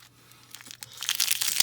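Crinkly plastic packaging around a Ready 2 Robot toy is pulled open close by, starting quiet and building into a louder rustling crackle within a second or so.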